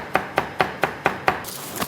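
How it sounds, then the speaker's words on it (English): A knife finely chops curly parsley on a board, six or seven crisp, evenly spaced cuts in quick steady rhythm, close and clear with no talking. "We're going to finely chop curly parsley"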